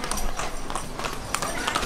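Horse hooves clip-clop on a street in Trinidad, a quick steady patter of hoofbeats close by amid street noise and people talking.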